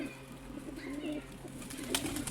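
Pigeons at a backyard loft coo in soft, repeated low calls, close by, with brief rustles and flutters of wings toward the end and no talking.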